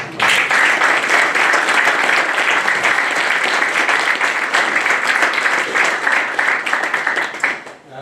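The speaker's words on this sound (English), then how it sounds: "So if I may ask you to applaud Omar." Audience at a conference on countering terrorism gives loud, sustained applause, dense clapping from a full room that holds steady for about eight seconds and then fades at the end.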